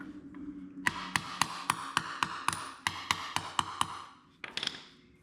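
A socket is tapped repeatedly with a hammer to seat a leaky mid PTO seal on a John Deere 425, 445 or 455 mower: a dozen crisp, close, evenly spaced metallic taps, a pause, then a few quicker ones.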